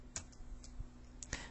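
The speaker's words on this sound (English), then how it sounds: "I'm pressing and holding Alt, and then I'm pressing T." Two computer keyboard keys pressed in sequence, Alt then T, giving a few quiet, sharp clicks spaced over a second and a half against faint background hiss.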